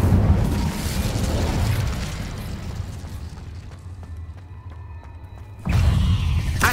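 The Incendio fire spell in Hogwarts Legacy goes off as a loud roaring whoosh of flame. It fades into a softer rumble and ends in a second burst.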